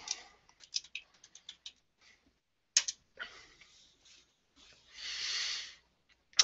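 Someone types on a computer keyboard nearby, quick scattered key clicks in short bursts with pauses between, followed by a longer soft rustling sweep.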